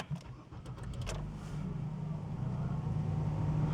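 A 2009 Nissan Qashqai 2.0 petrol CVT with four-wheel drive starts up with a few brief clicks and a short crank, then settles into a steady low idle hum close by.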